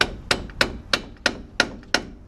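Seven sharp metal hammer blows strike a Ford F150 front wheel bearing part at a steady, even rhythm, each a close, ringing crack with a short decay, and no voices.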